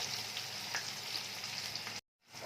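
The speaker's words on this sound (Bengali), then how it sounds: "পেঁয়াজগুলোকে আগে দিয়ে দিচ্ছি, ভালো করে ভেজে নেবো এগুলো আগে আমরা" Onions fry in oil with whole cumin, a steady close sizzle that cuts off abruptly partway through and then returns faintly.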